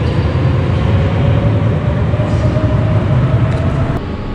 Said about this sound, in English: And this is the train